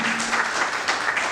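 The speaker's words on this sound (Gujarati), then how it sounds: "એકવાર જોરદાર તાળીઓથી અર્પિતાબેનના ચિત્રોને આપણે વધાવીએ" Audience applause for painter Arpita's paintings at an art award ceremony, a steady dense patter of clapping throughout the short stretch, fairly close and even in loudness.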